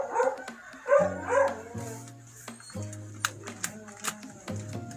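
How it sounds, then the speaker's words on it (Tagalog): A dog barks and yips a few times, mostly early on, over a busy background of voices and tonal music. "ang ingay ng aso"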